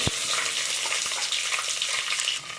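Peppercorns, cumin and garlic sizzle in hot oil in a pan for a kanji made with saamai rice, a loud, steady crackling fry with sharp pops up close.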